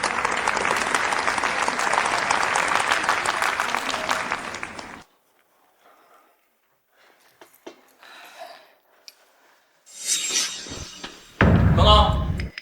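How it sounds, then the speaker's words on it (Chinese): A hall audience bursts into loud, dense applause as guests are called on stage at a corporate signing ceremony. The clapping cuts off after about five seconds, followed by near silence, scattered thuds and people talking. "掌声有请"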